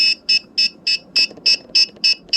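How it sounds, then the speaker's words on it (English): A quick run of about nine evenly spaced, high-pitched electronic beeps from a radio control plane transmitter powering up, with faint background noise between them. "So it makes some beeping."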